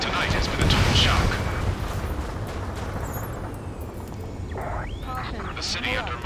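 Distant gunfire and booming blasts rumble beneath a speaking voice, with a jet roar sweeping in near the end, in a city under martial law in the video game Ace Combat 7.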